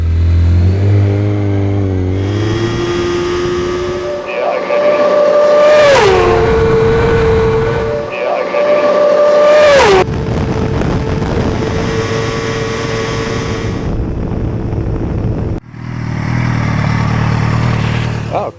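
Car on a land-speed run at a New Zealand speed day on the Goudies road, engine roaring loud and close and climbing through gear changes, repeated rising whines with brief shift dips, then a steady high-speed rush of wind and drive.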